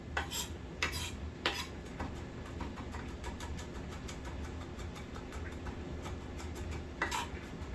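A chef's knife rapidly mincing garlic on a board, producing fast, light, continuous tapping with a few sharper clacks, close and fairly quiet, with no talking.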